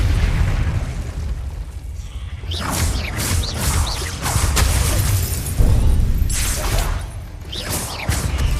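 Repeated explosion spells in Hogwarts Legacy, set in catacombs, burst as loud crackling booms one after another, with rumbling low-end tails between blasts and no talking.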